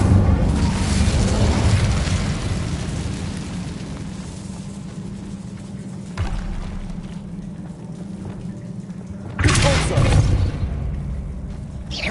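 The Incendio fire spell is cast in Hogwarts Legacy on PS5: a broad whooshing roar rolls on and slowly fades, then swells again in a second loud burst near the end.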